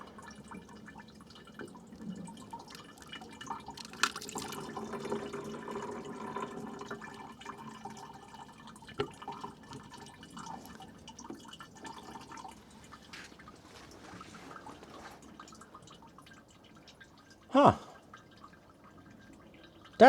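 Water dripping and trickling as it drains from the engine block of a Ford 4000 tractor, faint irregular drips over a quiet background, with a couple of louder splashes near the end.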